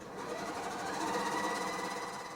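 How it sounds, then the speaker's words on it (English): A sewing machine stitches a curved quilt seam for a sunburst block, a steady, fast, even mechanical whir running close and alone throughout. "let me take this over to the sewing machine and try to get you a good view of how I'm going to sew this on"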